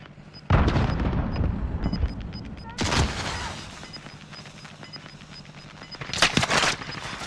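Gunfire in the video game Call of Duty: Modern Warfare comes in loud, close bursts separated by quieter gaps, over a faint background of game ambience.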